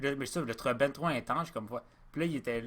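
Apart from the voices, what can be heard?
No distinct noise like a dog, phone or traffic.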